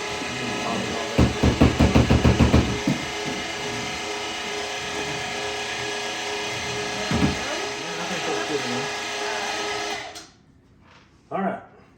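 An electric meat grinder works through cheesesteak sausage meat, a loud steady mechanical whir with a burst of rapid ratcheting clicks near the start, a few clunks, then the motor cuts off and a brief knock follows.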